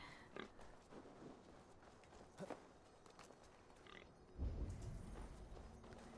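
Pigs oink and grunt softly in the video game Assassin's Creed Valhalla, a few scattered low snorts against quiet game ambience, with a louder rumbling thump near the end.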